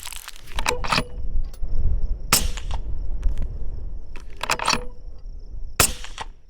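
Rifle shots at an outdoor range with a Howa 1500 wearing an Athlon Helos BTR scope, several sharp cracks spaced a second or more apart, each ringing out briefly.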